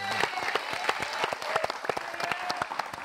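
Hands clap in a burst of applause, dense and rapid sharp claps from a small group, fairly soft overall with some faint voices mixed in.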